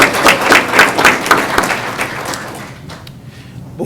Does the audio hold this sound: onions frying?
no